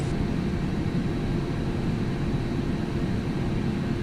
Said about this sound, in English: この飛行機は間もなく離陸いたします。